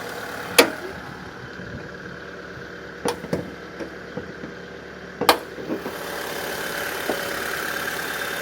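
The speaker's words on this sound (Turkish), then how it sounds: "Motoru böyledir. Bunun motoru ölmez motor." A 1999 Mitsubishi Carisma 1.6 GLX engine idles with a steady mid-pitched hum, broken by a few sharp clicks and knocks near the start and middle.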